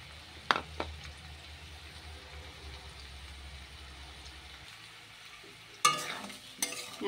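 Mung dal being stirred in a cooking pan gives a faint low scraping and soft sizzle, with a couple of sharp clinks of a utensil against the pan near the start and again toward the end.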